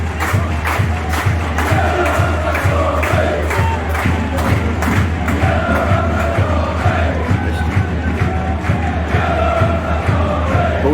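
Football crowd at a Cambridge United versus Burton Albion match, a loud continuous roar and chanting filling the stadium, with rhythmic clapping or drum beats pulsing through it.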